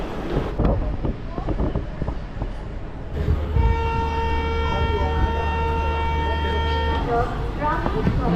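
The 22650 Yercaud Superfast Express pulling away from platform 3, a steady rumble with wind buffeting, then a long loud horn blast of about four seconds before the rolling noise continues.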